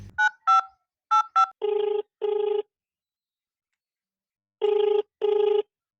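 Outgoing phone call with a few short dialing tones, then repeated double-burst ringback tones with long gaps between them, unanswered, with no talking.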